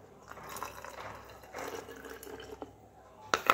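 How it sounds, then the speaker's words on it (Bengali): Rice water is poured into a bowl as part of a hair-care preparation, a soft, steady liquid trickle with faint splashes that ends in a brief louder splash. "তো আমি একটু পরিমাণ মতো এর মধ্যে ঢেলে নেব।"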